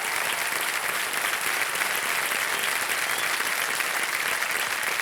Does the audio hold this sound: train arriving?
no